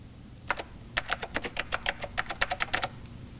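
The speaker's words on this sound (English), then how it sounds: "To display a title for our text field, we just type something in this space." Rapid clicking keystrokes on a computer keyboard typing a text field title in Wingz spreadsheet software, about a dozen crisp, close taps in quick, slightly uneven rhythm.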